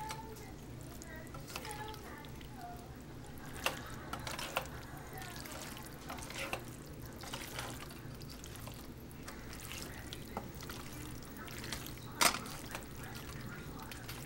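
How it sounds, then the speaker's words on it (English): Pasta is stirred into sauce in a pan, giving faint wet scraping and squelching with occasional soft clinks against a quiet room background. "I'm going to stir the pasta into the sauce"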